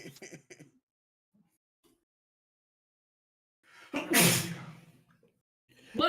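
One sharp, loud sneeze bursts out during a quiet pause, with bits of conversation just before and after it.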